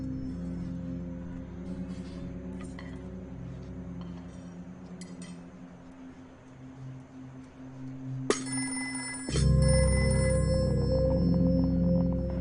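A telephone rings abruptly near the end of a domestic mealtime scene in a Hindi-dubbed film, a bright repeated electronic tone cutting in loudly over the low background score.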